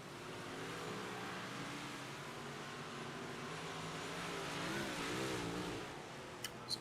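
Big block modified race cars roar around the Limaland dirt track, a steady layered engine drone swelling and fading as the pack passes, heard from a distance with a few sharp knocks near the end.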